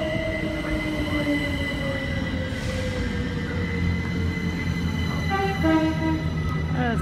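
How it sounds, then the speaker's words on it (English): A GWR Class 387 electric train pulls out of Ealing Broadway station, a steady loud rumble with rising motor whine and tonal hums building as it accelerates, with a brief squeal and another passing train's tones entering near the end. "So 387142 at the front now departing"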